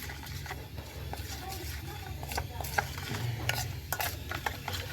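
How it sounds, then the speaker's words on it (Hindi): Pita bread dough ingredients stirred together in a bowl, with repeated scraping and clattering strokes at an irregular rhythm, close and moderately loud. "अब सबसे पहले इस सारी चीज़ों को मिक्स कर लेंगे।"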